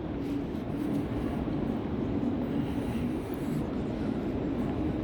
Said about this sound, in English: There's also like a tram, kind of like a bus that goes up and down here.